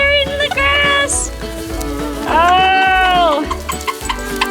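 Goats bleating on a farm, several loud wavering calls close by, one long drawn-out bleat in the middle, with chickens and a person's voice mixed in.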